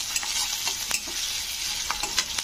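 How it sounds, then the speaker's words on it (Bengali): Chopped onions sizzle in a hot pan with a steady frying hiss, broken by several sharp scrapes and clicks of a spatula stirring them. "পেঁয়াজটা দিয়ে একটু ভেজে নেব, পেঁয়াজকে একটু হালকা ব্রাউন করে ভেজে নেব"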